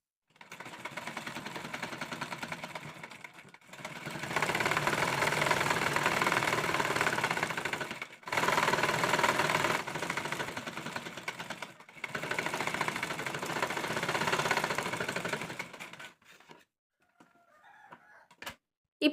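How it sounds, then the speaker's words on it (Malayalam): A sewing machine stitches a shirt collar in three long, steady runs of rapid mechanical whirring, separated by brief pauses, followed by near silence with faint background sounds. "ഇനി ഒരറ്റം മുതൽ മറ്റേ അറ്റം വരെ നമുക്ക് കുറച്ച് ഗ്യാപ്പ് ഇട്ട് സ്റ്റിച്ച് ചെയ്യാം"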